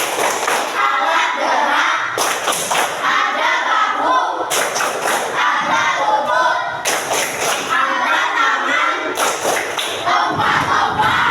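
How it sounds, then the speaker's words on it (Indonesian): Pupils in a classroom clap their hands together in a repeated rhythmic pattern, loud and close, with bursts of group voices chanting between the claps. "Oke, tepuk tangan."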